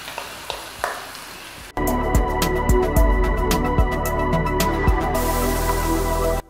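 Tomato puree drops into a hot pan of sautéing spices and slit green chillies for prawn dopiaza, bursting into a loud, steady sizzle after a quieter start, with a few sharp clinks of a utensil against the pan.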